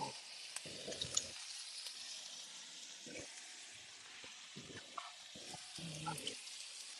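Cheesesteak filling sizzles steadily in a hot pan, a constant crackling hiss with soft scattered stirring knocks and faint background talk.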